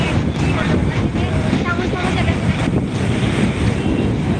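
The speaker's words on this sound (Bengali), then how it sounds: "প্রচুর মারছে জল কিন্তু প্রচুর মারছে প্রচুর" Strong sea waves surge and crash on Digha beach during a storm surge, a continuous loud roar of surf mixed with heavy wind buffeting the microphone.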